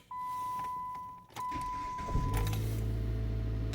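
A 2013 Dodge Avenger SE with 191,314 miles cold-starts: a chime sounds, the starter cranks briefly, and the engine catches into a steady, loud idle close by.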